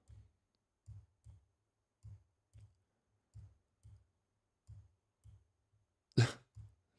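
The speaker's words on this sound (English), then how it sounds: "This mouse clicking is the loudest thing ever." A computer mouse clicks in soft, evenly spaced single taps, about a dozen in all, close and quiet in an otherwise silent room, with one brief louder burst near the end.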